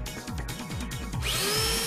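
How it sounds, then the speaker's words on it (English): A Hitachi CS36DL 36V cordless top-handle chainsaw whirs in pulsing bursts, then revs up to a steady high-pitched motor whine, close and fairly loud. "Hitachi CS36DL Cordless Chainsaw."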